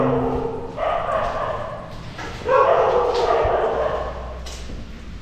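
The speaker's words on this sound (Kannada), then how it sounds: "ಎಷ್ಟು ನಾಯಿ ಬೊಗಳ್ದಾವ ಗೊತ್ತಾ ಸಡನ್ ಆಗಿ" Several dogs bark and yip in short overlapping bursts at night in Bangalore, moderately close, with a person's voice briefly mixed in.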